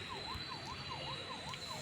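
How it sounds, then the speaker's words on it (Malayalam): Police car siren in the Rope Hero video game, a steady wailing two-tone sweep rising and falling about every half second, loud and continuous over a low engine-like rumble. "ഇതാ പോലീസ് വണ്ടി പോകും."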